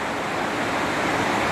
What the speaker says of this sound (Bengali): বিয়াস নদী তো মানে সাংঘাতিক গর্জন এখানে